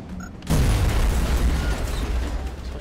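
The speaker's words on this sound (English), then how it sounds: "Throwing grenade!" A grenade in XCOM Enemy Within Long War detonates with a sudden loud blast, followed by a rumbling, crackling roar that stays heavy for a couple of seconds.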